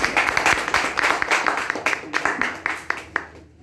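Applause at a business plan meeting, close clapping with an uneven rhythm that thins out toward the end, as a smaller group claps rather than a full roaring crowd.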